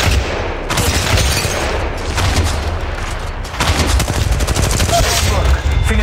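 Apex Legends Mobile gunfire comes in loud bursts of rapid automatic shots, close and repeated in several volleys with short gaps between them.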